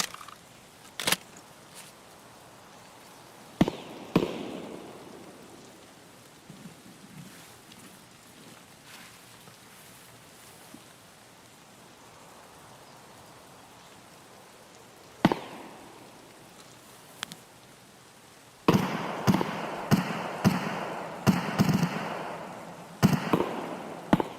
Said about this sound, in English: Really don't like how much gunfire's going on over there.